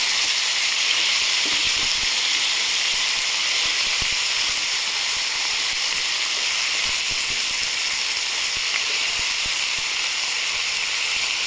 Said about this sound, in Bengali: আমি এখানে টমেটোর ওপরে পেঁয়াজ কুচি আর আলু দিয়ে দিলাম। একসাথে সবকটা ভেজে নেব।